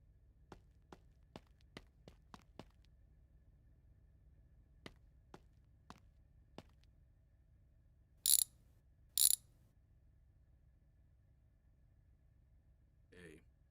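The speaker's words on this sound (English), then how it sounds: "Let's grab a wrench and a screwdriver." Ratchet wrench loosening fasteners on a car door panel: a quick run of sharp clicks, then sparser single clicks, two short loud bursts near the end and a brief final rattle, all close and clear against a quiet background.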